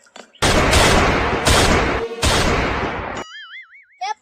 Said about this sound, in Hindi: ए पागल गब्बर चाल गोली चल गया